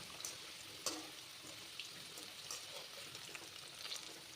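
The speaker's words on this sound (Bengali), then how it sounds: "তেলটা আমার গরম হয়ে গেছে। এবার এর মধ্যেই ছেড়ে দেব কেটে রাখা আলুগুলো।" Cut potatoes drop into hot oil in a home kitchen and fry with a faint, steady sizzle, broken by a few small pops and crackles.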